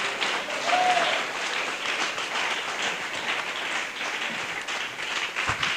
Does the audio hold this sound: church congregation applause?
yes